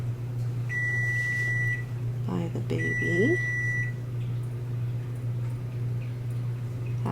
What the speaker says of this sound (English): That was my dishwasher that was beeping in the background there.